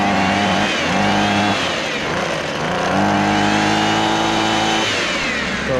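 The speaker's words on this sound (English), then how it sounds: "So let's get her cranked up here. Cranks up real easy." A Ryobi leaf blower starts up and runs with a loud, steady motor drone that rises and dips in pitch as the throttle shifts.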